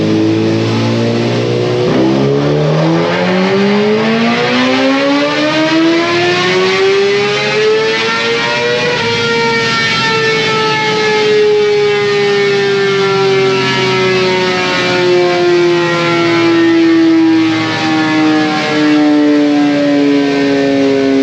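A Suzuki GSX-R 1000 motorcycle engine runs hard on a dyno, its loud, sustained note climbing steadily in pitch as it revs up, then holding high and easing slightly downward, with no voices present.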